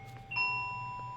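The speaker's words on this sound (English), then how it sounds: "Apparently the bell means that's my time." A school-style bell chimes once near the start, ringing out clearly and sustaining as a steady tone that fades slowly over about a second, heard alone without talk.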